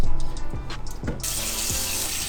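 Cold water runs from a tap over a freshly plucked dove in a sink, a close, steady splashing stream whose pitch shifts as the bird is moved under it, with no talking.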